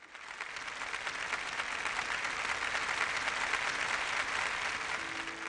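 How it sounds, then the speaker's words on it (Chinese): Sustained applause from a studio audience after a televised archaeology lecture on the Shang dynasty, a dense, steady wash of clapping that holds at an even level throughout, with no voices over it. "让我们把最热烈的掌声送给唐老师，来起立"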